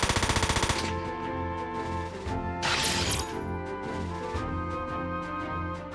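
Rapid machine-gun barrage fire from the mecha game Front Mission 4 opens with a dense burst of shots, followed by a crashing impact and repeated hits over a loud game soundtrack.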